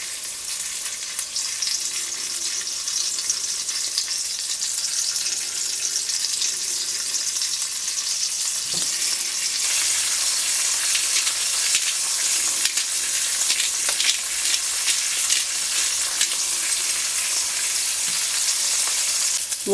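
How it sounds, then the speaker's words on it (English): Salted beef short ribs sear in a hot pan, giving a steady, loud, close sizzle that holds throughout, with a slight swell in intensity partway through and no talking. "put them into the pan to sear"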